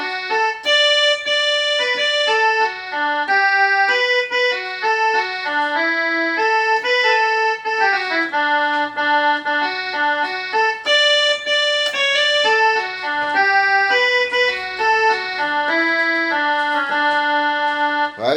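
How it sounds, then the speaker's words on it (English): A reedy, bagpipe-like melody plays a brisk Scottish march tune, bright and steady, notes moving in quick stepwise runs without any accompaniment. "I played in a little bagpipe version, so you can hear what a Scottish march."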